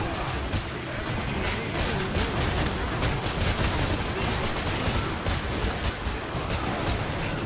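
Combat shotgun blasts aimed at a Fleshpound in Killing Floor 2, heard as dense, continuous rattling gunfire with loud overlapping game noise.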